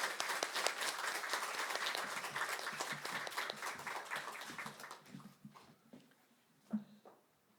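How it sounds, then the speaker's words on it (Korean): Church congregation at a Sunday service applauding graduates of a course, moderately loud clapping that holds steady then thins and fades out over the last couple of seconds, with a few scattered late claps. "박수 부탁드립니다"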